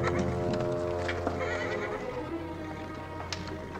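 A horse neighs and whinnies with clip-clopping hooves in a period Western television scene, loud and close throughout with no talk.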